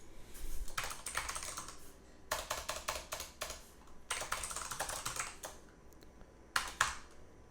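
Keys clatter on a computer keyboard in quick bursts of rapid presses, separated by short pauses. The sound is close and moderately loud, with no speech.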